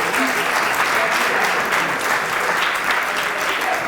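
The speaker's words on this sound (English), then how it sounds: "Let's give him another round of applause." Steady, dense applause from a crowd at an oratorical contest, loud and continuous throughout with no pauses.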